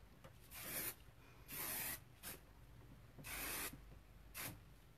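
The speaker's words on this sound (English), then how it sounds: "So you're just gonna take the hairspray one more time." Hairspray hisses from an aerosol can onto curled hair in several short bursts of varying length, soft and close, with quiet pauses between and no talk.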